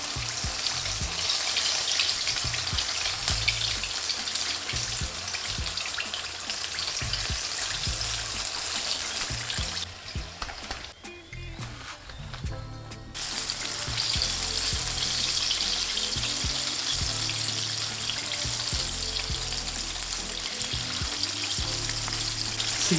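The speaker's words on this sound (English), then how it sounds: "So you want to keep frying rest of your batch." Batch of Nashville hot chicken frying in hot oil, a loud, dense, continuous sizzle and crackle close up, briefly dipping partway through before resuming.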